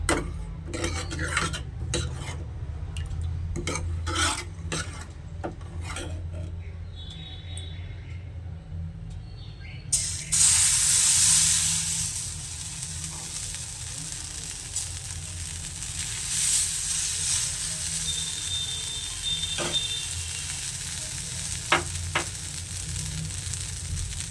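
Pitha batter for chitoi pitha stirred with a spoon, then poured into hot oil: scraping and clinking taps for about ten seconds, then a loud sudden sizzle that settles into steady frying with occasional clicks.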